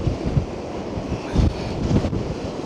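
Strong 70 mph gusts roar across the microphone at Blackpool while heavy, stormy sea waves crash and surge near high tide, a loud, continuous rumbling wash with no voices.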